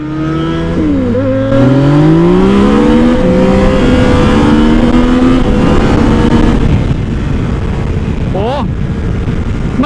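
A Yamaha Tracer 900GT motorcycle accelerates hard in first gear, its engine note climbing steeply through rising revs and shifting up, loud and close throughout with steady wind and road roar, then a brief second surge near the end.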